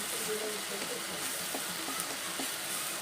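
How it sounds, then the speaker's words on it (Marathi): Cumin seeds and a bay leaf sizzling in hot oil for a tempering, a dense continuous close crackle and hiss with no pauses. "एक तेजपत्ता टाकून आपण फोडणी मारून देणार आहे"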